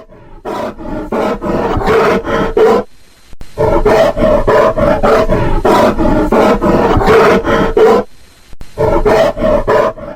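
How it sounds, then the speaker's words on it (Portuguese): A bear growls and roars in long, loud, close bursts separated by short pauses, with no other sound around it. "Esse é o som de um urso."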